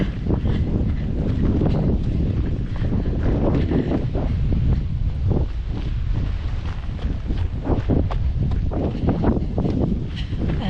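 Strong wind buffets the microphone continuously during a trail run on Lanzarote, with gusty low roaring bursts and no voices.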